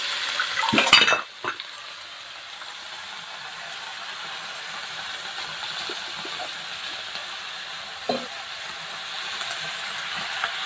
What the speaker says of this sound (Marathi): आता आपण जी भाजी घेतलेली किलोची भाजी ती टाकायची